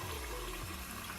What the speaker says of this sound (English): So I'm just gonna go ahead and add water